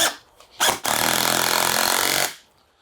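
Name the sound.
drill driving screws into maple wood pieces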